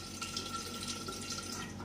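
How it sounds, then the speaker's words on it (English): Water pours steadily over soaking beans being set up for sprouting, a faint, continuous splashing trickle with no voices. "But put in a little extra water because the beans are going to soak up some water."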